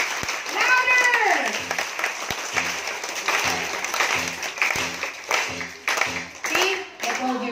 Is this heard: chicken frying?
no